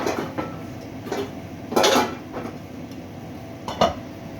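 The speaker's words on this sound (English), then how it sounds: "I'm gonna find a lid that fits that now." A metal lid is fitted onto a cooking pot with a few light clinks and knocks spaced over a few seconds, close by in a quiet kitchen.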